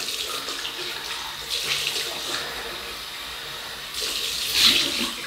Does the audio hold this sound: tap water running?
yes